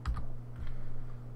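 Two or three soft, close clicks come from arrow keys pressed on a computer keyboard while a video game is played, with no talking.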